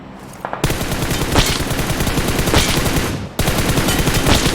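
Sustained automatic gunfire in PUBG Mobile, a rapid continuous stream of loud shots that briefly stops and then resumes, with no voices.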